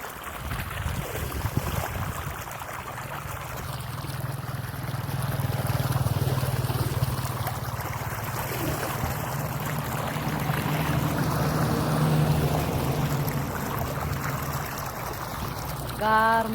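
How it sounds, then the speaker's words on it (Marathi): Irrigation water running along an open channel into a grape vineyard, a steady close rush and gurgle of flowing water throughout, with a brief voice near the end. "आपण बागेला पाणी चालू केलं बघा."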